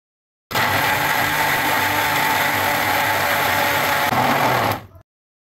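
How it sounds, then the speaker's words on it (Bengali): An electric blender whirs for about four seconds, blending lemon juice, vinegar, milk and oil into a vegetable mayonnaise, loud and steady from start to stop, then spinning down at the end. "1/4 কাপ তেল দিয়ে ভালো করে আমি এটাকে ব্লেন্ড করে নেব।"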